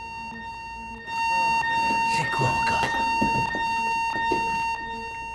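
A building alarm blares as a steady electronic tone with high harmonics, running throughout under overlapping dialogue as a voice speaks over it.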